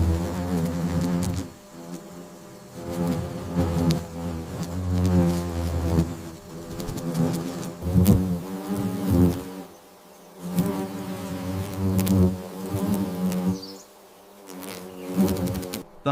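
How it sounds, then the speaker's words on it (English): A swarm of paper wasps buzzes at their nest, a dense, steady, close-up drone of many wings that swells and dips continuously throughout. "The morning sun illuminates the bustling activity of the paper wasps"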